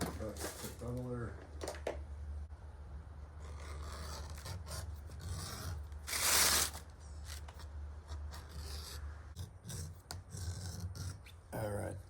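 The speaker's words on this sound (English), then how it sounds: "I never gave them a bevel, so I'm going to hit them with a beveler" A hand beveler scrapes along the edges of cut leather belt pieces in short rasping strokes, close and intermittent, with low background hum and one louder scraping burst.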